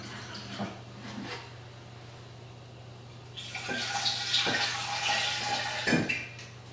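Water pouring into a pot while preparing hibiscus tea for a party, a faint background stream that grows into a louder, rushing gush partway through, with a low steady hum underneath.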